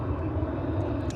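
An airliner touches down on a runway at Dallas/Fort Worth Airport, heard as a brief, steady low engine rumble without speech.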